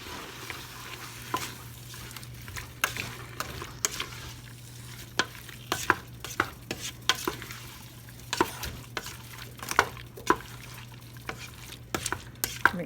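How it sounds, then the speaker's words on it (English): Pear jam with pectin being stirred in a pot on medium heat, a low bubbling bed broken by frequent sharp scraping and clinking strokes of the spoon in an irregular rhythm, close and with no talk. "stir this up."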